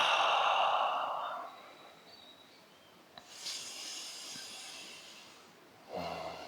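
A long, airy exhale during a Kundalini breathing exercise, breath released in a soft hiss that fades out, followed by quieter breathing and a fresh rush of air near the end, with no talk.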